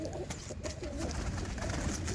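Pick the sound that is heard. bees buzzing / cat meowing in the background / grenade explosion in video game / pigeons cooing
pigeons cooing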